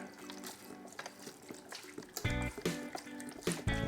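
Beef broth poured into an Instant Pot holding thyme and bay leaves: a quiet start that gives way to a louder, steady splashing stream of liquid filling the pot.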